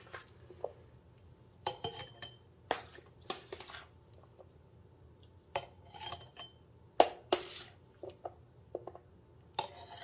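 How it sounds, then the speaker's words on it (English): Fresh homemade salsa of garden tomatoes is spooned into a glass mason jar in a quiet kitchen, giving a run of sharp clinks and scrapes of spoon on glass mixed with soft wet squishes, irregular and close. "we're going to just spoon it in"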